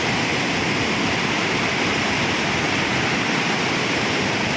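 Loud, unbroken roar of a heavily rushing rain-swollen river, a thick steady wash of noise close by with no voices.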